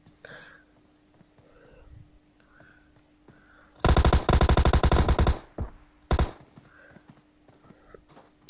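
Rapid automatic gunfire from a video game match, loud bursts of several shots in quick succession followed by a shorter second burst, over faint background game noise.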